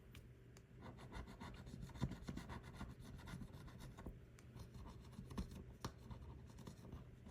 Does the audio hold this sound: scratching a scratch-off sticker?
yes